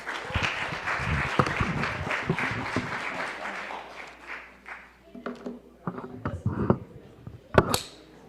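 Audience applause at a Martin Luther King Jr. Day of Service gathering, a dense wash of clapping that fills the first few seconds and then thins out, with a voice speaking over the tail end.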